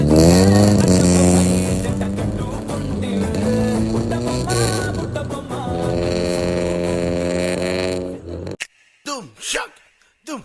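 A loud vehicle engine revs up and down in long sweeping surges, then gives a few short, sharp bursts of revving.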